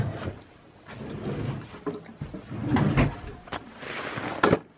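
A drawer slides open with rumbling, scraping runner noise in uneven pushes, ending with a sharper knock as it stops, all close by.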